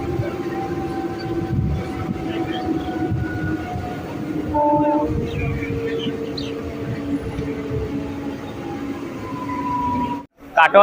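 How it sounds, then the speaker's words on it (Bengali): A passenger train pulls away from Bhatar station on the Katwa to Barddhaman line, with a continuous low rumble of wheels and carriages, steady tonal whines above it and a sudden brief drop near the end. "আর এখন আমাদের ট্রেন ছেড়ে দিল"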